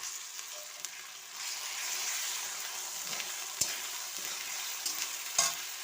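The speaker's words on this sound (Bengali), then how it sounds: "আর আদা বাটা দিয়ে দিচ্ছি। এইগুলো দিয়ে আবার একটু আমি ভেজে নেব।" Ginger paste and tomato fry in a pan, a continuous soft sizzle broken by a few sharp clinks and scrapes of a utensil stirring, with no talking.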